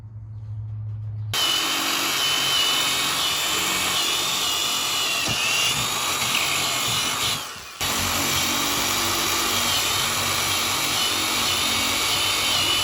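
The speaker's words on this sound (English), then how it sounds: "I'm going to measure where the holes go on each one of these rails, get those drilled" A power drill bores holes in rails for a van bike rack, starting after a brief pause and whining steadily and loudly, close by, with a short dip partway through before continuing.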